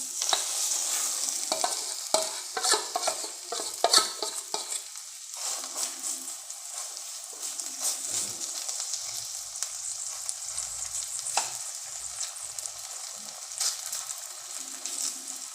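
Pizza batter goes into hot oil in a kadai and is spread out, making a loud, close sizzle with scraping stirs at first, then a softer, steady frying hiss.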